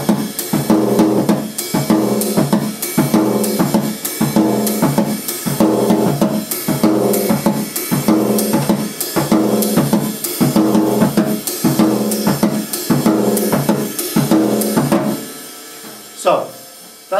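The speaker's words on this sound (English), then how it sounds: "If I put that together with the surdo rhythm, it sounds like this" Samba groove with snare drum hits on the offbeats between a steady surdo bass-drum pulse, loud and evenly repeating for about fifteen seconds before stopping, followed by a brief faint hit.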